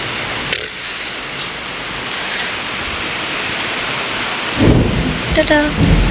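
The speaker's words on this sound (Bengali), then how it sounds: "কি বৃষ্টি হইতেছে" Heavy rain pours down steadily during a thunderstorm, a dense close roar with a sharp crack near the start and rumbling thunder bursts toward the end.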